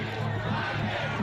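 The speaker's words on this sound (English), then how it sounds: "the crowd sarcastically chants a Black Lives Matter slogan" A protesting mob at the January 6 Capitol riot chants a slogan sarcastically, rough massed voices shouting in rhythm amid the noisy scrum, heard close and loud throughout.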